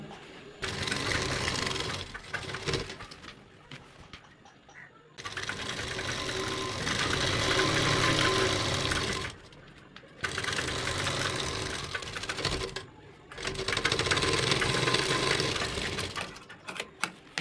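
An overlock sewing machine runs in long bursts, seaming a salwar from one leg to the other, its loud steady whir stopping briefly between runs before starting again.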